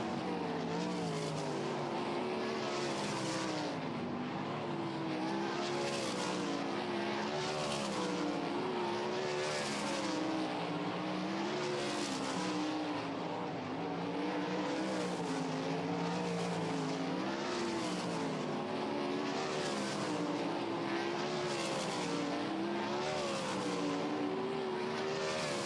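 Sprint cars running hot laps on a dirt track at Lakeside, engines wailing in repeating rises and falls as cars sweep past lap after lap, steady and moderately distant.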